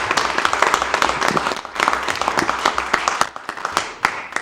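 Applause from the audience at a county freeholder board meeting, a dense round of clapping that runs steadily for a few seconds and tapers toward the end.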